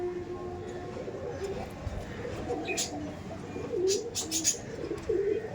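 Pigeons cooing at a loft, repeated soft throaty coos rising and falling over several seconds, fairly close, with faint background chirps and noise.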